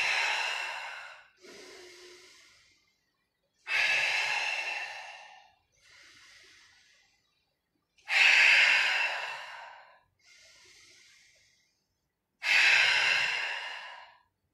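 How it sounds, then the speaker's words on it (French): Strong breaths during a Pilates breathing exercise come four times in a slow, regular cycle, each a long forceful exhalation from the back of the throat followed by a softer, shorter breath. The breathing is close, with silence between. "Expiration est forte par l'arrière-gorge"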